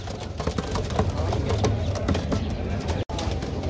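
Pigeons coo at a Baghdad bird market, soft and steady amid busy market bustle, with people talking nearby.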